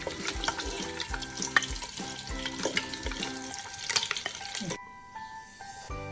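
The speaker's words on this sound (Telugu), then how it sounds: "ఇప్పుడు ఎగ్స్ ఫ్రై అయినాయి, తీసుకుందాం." Eggs frying in oil in a kadai, giving a close crackling sizzle with frequent sharp pops and spatters that suddenly drops to a quiet hiss near the end.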